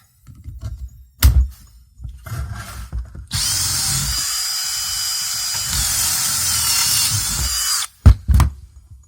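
A cordless drill bores holes in wooden boards for a wardrobe build, with one loud, steady high-pitched whirring run of about five seconds, framed by short drill bursts and wooden knocks and thunks.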